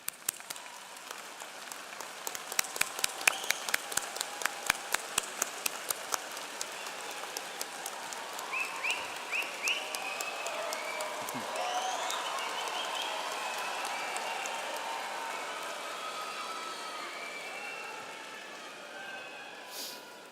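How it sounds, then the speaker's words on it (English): Commencement crowd applauds supporting family, friends, faculty and staff, beginning with a few sharp, evenly spaced claps that swell into a soft, far-off wash of sustained applause before slowly fading. "Stand up, turn towards them, and give them a round of applause."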